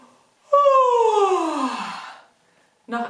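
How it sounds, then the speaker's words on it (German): During a body warm-up exercise, a person gives a long, open, voiced yawn whose tone slides downward and fades over about two seconds; a brief vocal sound starts again right after a short pause. "Und wir gähnen."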